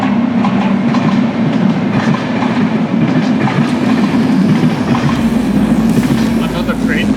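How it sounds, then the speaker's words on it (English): A train passes close by with a steady low rumble and rhythmic clickety-clack of wagons on the rails, loud and continuous throughout, while a voice talks faintly in the background. "Another train."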